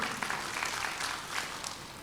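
Congregation applauding in a church, a brief, dense wash of many hands clapping at moderate volume, steady throughout with no voices over it.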